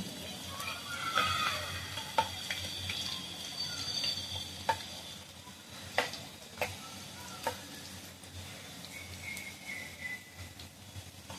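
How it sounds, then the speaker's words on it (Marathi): Garlic and bay leaves fry quietly in tempering oil for a jackfruit curry, a soft, low hiss dotted with a few sharp pops and ticks. "आता आपण टाकूया इथे फोडणीला टाकले लसूण, तेजपत्ता."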